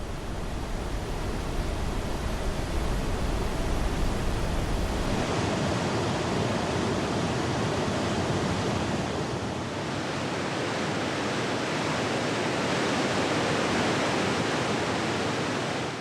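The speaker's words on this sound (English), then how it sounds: "the water plunges spectacularly over rock faces and into the fjords" Waterfall plunging over rock faces into a Norwegian fjord, a steady broad roaring rush of falling water, loud and continuous, alone without voices.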